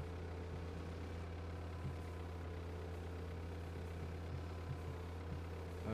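Construction vehicle engine in the video game Construction Simulator 2015, a steady low idling drone with a constant hum that holds evenly throughout, with only slight shifts in revving and no voices.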